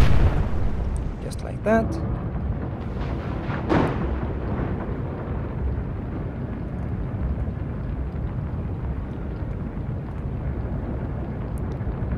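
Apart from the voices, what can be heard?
naval guns firing at a ship, from the video game Atlantic Fleet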